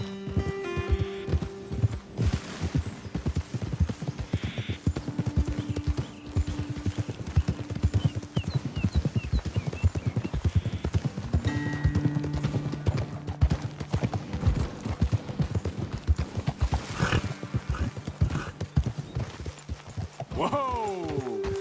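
Horse hooves pounding steadily at a gallop in the Western video game Red Dead Redemption 2, a continuous rhythmic clip-clop under game music and occasional voices.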